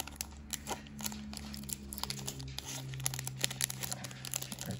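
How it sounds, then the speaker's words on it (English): Crinkling, tearing foil of a Japanese Pokémon 151 booster pack being pulled open by hand at close range, with repeated sharp crackles and rips against a low steady hum. "A little bit tough to open."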